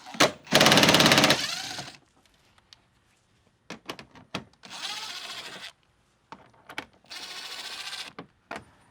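A powered ratchet or impact tool spins out fender liner bolts with a 10mm socket on a Toyota 4Runner, three loud buzzing bursts of about a second each, separated by short clicks and quiet handling.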